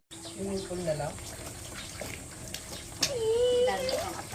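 Water runs steadily from a tap into a basin, a continuous splashing rush heard close, with voices talking over it at times.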